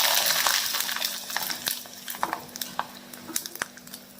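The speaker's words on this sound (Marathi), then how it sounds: "तर आता अशाच प्रकारे बाकीचे पण पापड मी तुम्हाला तळून दाखवते" Sorghum and sabudana papad frying in hot oil, giving a soft bubbling sizzle that is strongest at first and then breaks into scattered crackles and pops.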